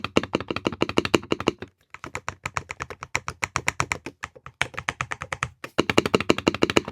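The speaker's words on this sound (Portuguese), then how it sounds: "eu queria mostrar para vocês o som desse switch" Rapid clicky keystrokes from switches on a mechanical keyboard in a budget gaming PC setup, typed in quick bursts with brief pauses, close and crisp with no talking.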